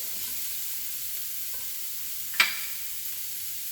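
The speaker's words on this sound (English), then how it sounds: "I'm going to let this saute and get a head start." Chicken sautés in a pan for a creamy mushroom sauce dish, giving a soft, steady sizzle. A single sharp clink of a utensil rings out partway through, and no one speaks.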